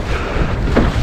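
Gusty wind buffets a sailing dinghy, a Laguna-Kombi+ centreboard boat, out on the water, a loud, continuous roaring rush close to the microphone.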